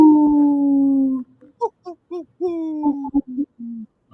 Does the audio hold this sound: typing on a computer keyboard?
no